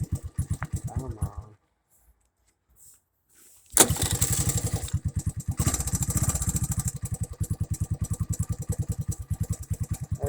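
A cold small engine sputters, cuts out into near silence, then catches with a loud burst and settles into a steady, slightly uneven chugging idle, close and prominent.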